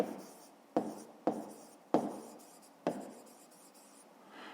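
A pen writes on paper while working a fifth-grade math exercise, close and quiet scratching broken into about five strokes, each starting with a sharp tap and trailing off.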